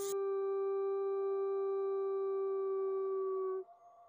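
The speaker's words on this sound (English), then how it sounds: "Wolf. Wolf. Wolf." A wolf gives a single long, sustained howl that holds one steady pitch for several seconds and then breaks off sharply into a faint, lower tail.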